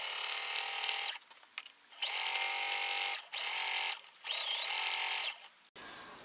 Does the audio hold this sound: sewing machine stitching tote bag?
yes